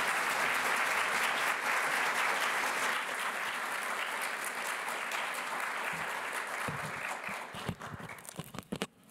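An audience bursts into sustained applause welcoming Professor Harry Frankfurt at the Charles Homer Haskins Prize lecture, loud and steady for most of the span before thinning into scattered final claps.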